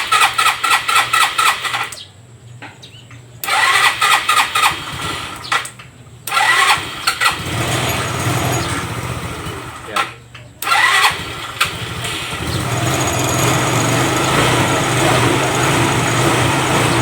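A motorcycle engine undergoing troubleshooting and repair cranks in several bursts with pauses between, then catches and settles into a steady, loud idle, close by, with a voice speaking over parts of it.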